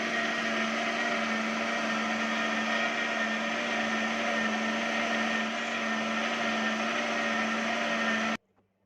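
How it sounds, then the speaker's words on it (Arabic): Kitchen blender whirring steadily as it mixes coconut cake batter, a loud constant motor drone with a strong steady hum that runs unbroken before cutting off abruptly near the end. "انا دلوقتي هضربهم كلهم في الخلاط"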